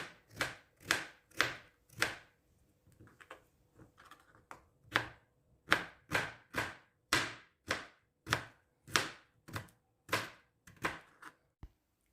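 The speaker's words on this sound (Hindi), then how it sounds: "मूली भी काट के जूलियन कटिंग करके हमने 1 कप लेनी है" A knife julienne-cuts radish on a cutting board in quick bursts of rapid, rhythmic chopping strokes, with short pauses between runs.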